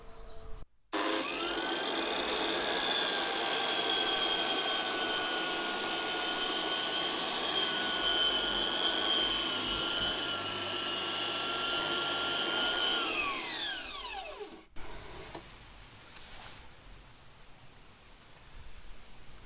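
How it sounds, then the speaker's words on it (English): An edge flooring sander runs on an old weathered outdoor deck with a loud, steady motor whine for about thirteen seconds, then spins down and cuts off, leaving quiet outdoor background. "It's an edging sander, I don't know if that's the correct term, edge flooring sander."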